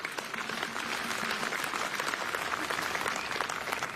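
A large outdoor crowd at a political rally in Shimla claps vigorously, a dense continuous patter of many hands that holds steady and slightly swells over several seconds.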